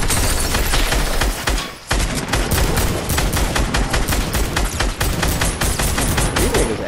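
Rapid, loud automatic gunfire from Fortnite rattles almost nonstop in close bursts, with one brief pause near the two-second mark before the firing resumes.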